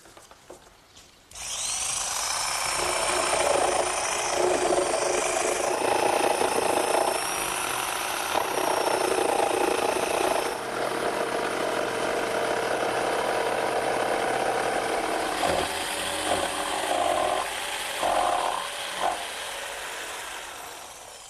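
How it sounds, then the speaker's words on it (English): A handheld saber saw with a sharp blade cuts out a pattern in wood for a kitchen dresser, starting abruptly with a loud, continuous buzzing whine that runs steadily with slight changes in pitch before easing near the end. "I'm actually just going to use a handheld saber saw with a nice sharp blade to make that cutout"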